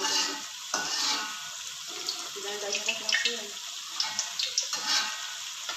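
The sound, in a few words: frying anchovies (ikan bilis) in a pan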